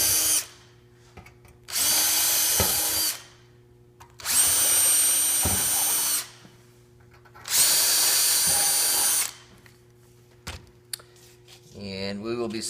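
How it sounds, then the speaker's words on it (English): Three bursts of a power drill whine loudly through plywood, each lasting a second or two, separated by short quiet pauses with small knocks. "take that same drill bit and drill down through those plywood"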